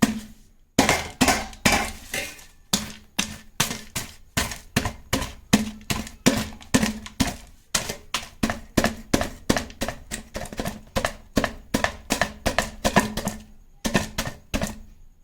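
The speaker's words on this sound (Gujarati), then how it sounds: "તો હવે આપણે આને છે ને આ રીતના દસ્તથી છે ને ભાંગી નાખવાના." Cooled wheat muthiya for ladoos, made from new wheat, pounded with a pestle: a steady run of sharp, close knocks, roughly two or three a second with brief pauses, loud and alone.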